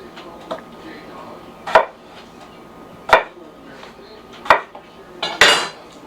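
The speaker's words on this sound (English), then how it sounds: "So I'm just going to kind of cut these up into quarters." A knife quarters small white potatoes on a cutting board, landing about five sharp, loud chops at uneven intervals over a low background, with no talking.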